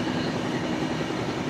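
A 12665 Kanniyakumari superfast express train runs through Tamil Nadu hill country, giving a steady, loud rumble and rolling wheel noise that holds without a break throughout.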